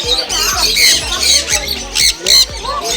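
Birds at a Bangalore pet sanctuary squawk in loud, harsh, repeated bursts, several calls overlapping close by with little pause, a dense raucous chorus.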